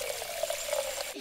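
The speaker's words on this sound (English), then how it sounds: "Daddy Pig is drinking from the water fountain." A cartoon drinking fountain lets out a short, steady trickle of running water, a light bright gurgle that stops abruptly near the end, with no voices over it.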